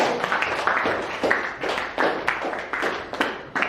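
Group of people clapping for a presenting team in a classroom, a dense patter of hand claps with rhythmic surges, fairly close and steady throughout.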